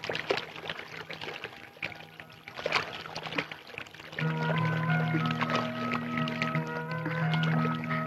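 Hot water is poured and mixed with cooler water in a vessel, a steady trickling pour that turns into a fuller, continuous stream partway through, close and alone without talk.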